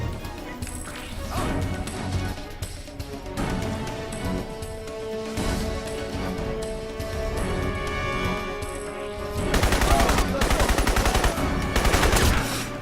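Ranged weapon gunfire in the game Crysis, played on max difficulty: rapid automatic bursts and crashing impacts keep going throughout, growing louder and denser near the end.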